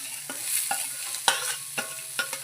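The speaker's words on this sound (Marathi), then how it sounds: "त्या मी कांदा भाजून घेणार आहे चांगला." Onion sizzling and being stirred in a pan for a dumpling-curry masala: a steady frying hiss broken by several sharp scraping stirs, close and clear, with no voices.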